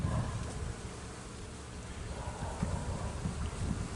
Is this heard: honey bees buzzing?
yes